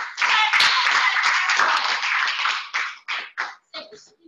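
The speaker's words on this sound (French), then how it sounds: "je vous prie déjà d'applaudir" Audience applause at a Toastmasters club session: a few seconds of dense, close clapping from a room of people that thins out into several separate, scattered claps before stopping.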